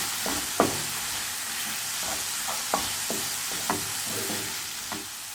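A spoon stirs a spice and chili mixture in a pan for samosa filling, giving several distinct scraping knocks over a soft steady sizzle, close and moderately loud, with no talking.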